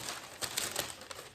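Paper crinkles and rustles as wooden parts of an Ashford loom are wrapped back up, with a continuous close crackle and several sharper crunches.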